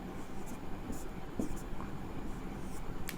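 Pen or pencil scratching out a maths fraction on paper during a Class 6 simplification lesson, a soft continuous scratchy writing sound under low room noise with brief strokes.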